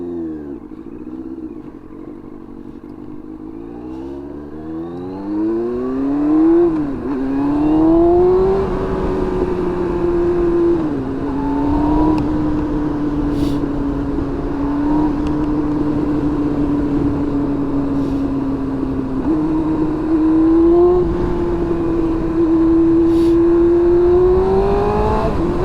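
A Yamaha R1 sport bike on a short test ride after clutch work, its engine note climbing through several revs and gear changes before settling into a sustained, loud cruising drone, with no one talking.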